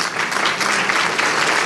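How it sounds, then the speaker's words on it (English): Dinner guests at a scholarship banquet applaud the evening's violinists, pianists and harpists, a loud, dense burst of clapping from a full room that stays steady throughout the short moment. "How about a round of applause for our dinner entertainment"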